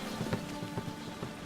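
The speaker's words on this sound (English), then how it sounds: "Looks like rain." Rain in The Witcher 3 video game, a steady patter of falling drops with soft irregular taps throughout, brief and even in level.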